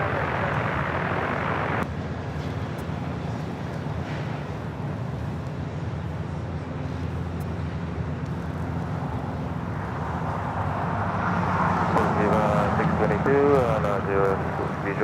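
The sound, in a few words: jet airliner taking off at LAX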